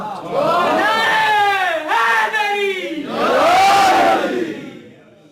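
A large crowd at a Muharram majlis in Abbottabad roars back in loud, sustained shouted replies to a religious slogan, rising in two swelling bursts.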